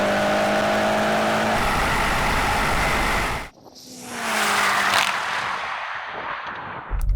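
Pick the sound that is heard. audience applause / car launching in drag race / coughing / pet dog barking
car launching in drag race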